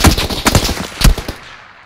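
A burst of video game gunfire, several sharp close shots fired in quick succession and then a single loud shot near the end, with a short echoing tail.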